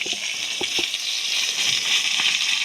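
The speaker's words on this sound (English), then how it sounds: "I don't know how you pan fry a wing" A chicken wing pan-frying in a pan at a campsite: steady, close sizzle with bright crackling hiss throughout, a few soft pops and stirring knocks, no talking.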